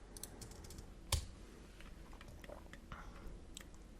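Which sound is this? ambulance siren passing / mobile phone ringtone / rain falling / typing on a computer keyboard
typing on a computer keyboard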